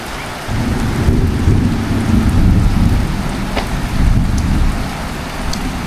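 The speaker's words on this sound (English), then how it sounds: "So here's the storm finally here." Heavy rain pours down steadily while deep thunder rumbles low and continuous underneath, loud and close.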